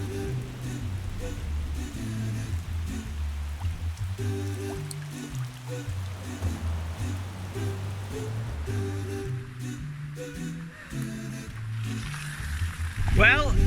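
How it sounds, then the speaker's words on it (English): Heavy, steady rain pours down on a camping site during a bicycle tour in North Wales, a continuous hiss over a low, droning background. "It's raining pretty torrentially now."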